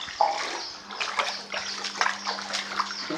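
Floodwater rushes and sloshes through a flooded village in the Lamakazi area of Sylhet, Bangladesh, during the 2022 floods, a close, steady watery wash with no voices.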